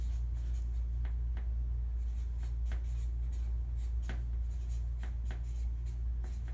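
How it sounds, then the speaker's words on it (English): Words are handwritten, making soft scratchy pen strokes with irregular short taps over a steady low hum of room noise. "Okay, so we'll write those down for you."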